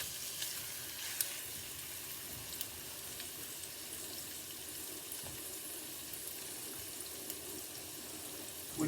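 Pork spare ribs sizzle and fry steadily in a pot for Italian Sunday sauce, a soft, even crackle that holds at low volume with occasional small pops and no talking.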